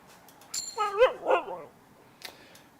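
A dog in a video game gives a short run of yips and whimpering barks, clustered together at moderate loudness, followed by a faint click.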